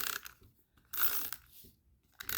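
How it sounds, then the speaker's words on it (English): A dry adhesive tape runner rolled along paper during a ribbon craft project, giving short close mechanical clicking and rasping bursts separated by quiet gaps, faint and alone. "So I'm going to take my dry adhesive"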